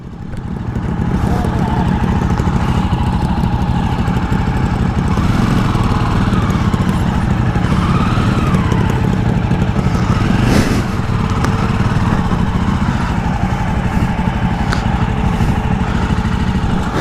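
A Jawa Perak motorcycle engine drones steadily and loudly throughout, a continuous rumbling throb while riding, with wind noise over it.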